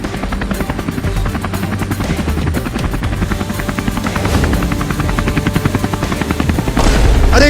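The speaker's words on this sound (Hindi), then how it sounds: "हम इतने बड़े हेलीकॉप्टर से उड़ रहे हैं" A large helicopter in a Hindi comedy cartoon flies past with loud, steady rotor chopping and a droning engine, growing slightly stronger toward the end.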